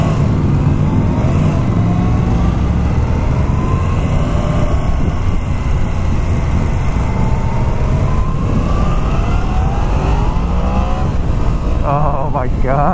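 A 2016 Yamaha FZ-10 motorcycle engine revs and pulls hard, loud and close over strong wind roar, its pitch rising and falling through the gears with a sharp rev at the end.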